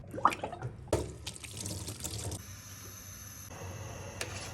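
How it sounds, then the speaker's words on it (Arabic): Tap water runs into a sink while a whole chicken is washed for a freekeh and rice dish, a steady splashing stream with a few sharper splashes and knocks near the start, heard alone with no talking. "هلأ منبلش نغسل الفروجة كتير منيح"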